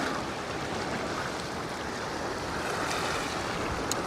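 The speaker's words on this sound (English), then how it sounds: "It breaks the wave up, so it's not as strong by the time it gets to the beginning of the wall." Ocean waves breaking against a sea wall in Waikiki, a continuous loud wash of surf with wind buffeting the microphone and no speech.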